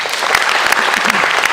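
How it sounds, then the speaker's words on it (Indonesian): Festival audience applause fills the space, a loud, dense wash of many hands clapping continuously throughout, close and steady with faint crowd murmur underneath. "Tepuk tangan dong."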